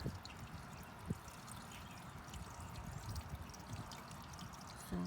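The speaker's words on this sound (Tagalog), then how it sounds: "Sobrang ulan" Dense, steady hiss of heavy rain pouring down, with occasional louder splashes and knocks, no voices.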